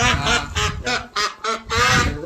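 Farm ducks quack loudly nearby in a rapid series of about seven raspy calls with short pauses between them.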